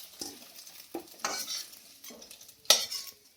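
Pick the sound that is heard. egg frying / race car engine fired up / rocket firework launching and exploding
egg frying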